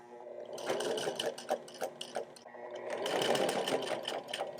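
Sewing machine top stitching a bomber jacket made from couch fabric, a close, loud, rapid mechanical whir running in bursts with a brief slowdown mid-way before picking up again.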